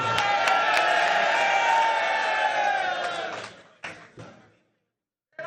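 A crowd at a political ceremony in Lahore roars with cheers and slogan shouts for about three seconds, then fades into a few brief bursts and a moment of silence.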